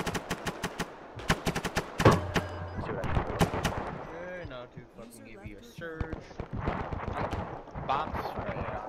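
Sustained bursts of automatic gunfire saturating a position in ArmA 3 during a night mission to clear a town, loud rapid cracks in long strings with scattered single shots and echoing reports, a voice talking over parts of it.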